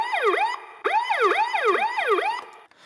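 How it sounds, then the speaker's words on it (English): A 2015 Hess toy fire truck's electronic siren wails in repeated rising-and-falling sweeps, loud and close, before cutting off abruptly. "if I put on the siren and then, for example, turn on the engine, it cuts off the siren"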